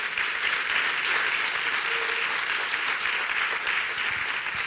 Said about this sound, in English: there's a good place to clap for the Lord